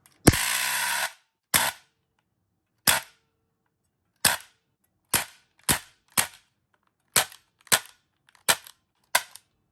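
A Tokyo Marui airsoft gas blowback pistol, a Smith & Wesson M59, firing about a dozen sharp, separate shots at an uneven pace, the first followed by a long gas hiss, each crack alone in silence.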